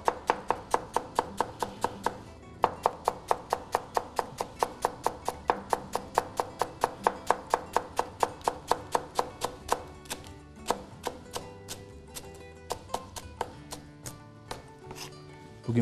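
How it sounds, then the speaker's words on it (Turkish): A knife chops leeks finely on a board, quick even strikes in a fast rhythm that slows and thins toward the end, close by. "Minik minik ince ince doğrayalım ki çabuk pişsin diye."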